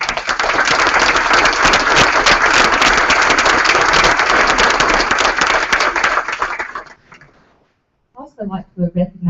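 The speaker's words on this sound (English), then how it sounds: "Let's give them a round of applause." Audience at a board of education meeting giving a loud, sustained round of applause for several seconds before it fades out and a person starts speaking.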